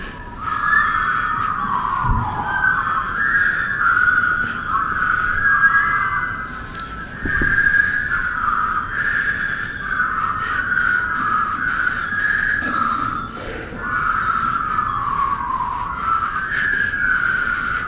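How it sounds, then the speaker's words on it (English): A person whistles the hymn Do What Is Right in a long, wavering melodic line, loud and close, with a couple of brief knocks in the background. "that is about the worst whistling, do what is right, I have ever heard."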